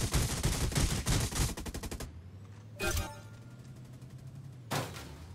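Rapid automatic gunfire rattles loudly from shooting boxes in the vehicle combat game Death Race, a fast burst of about two seconds, then two short, sharp volleys separated by quieter gaps with a low engine hum.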